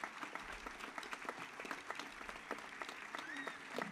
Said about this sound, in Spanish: Creo que como mercedarios nos merecemos un aplauso todos